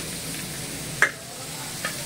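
Chalta (elephant apple) pickle pieces stirred with spices in a pan, a soft steady frying hiss with one sharp scrape of the spoon partway through and a fainter scrape near the end.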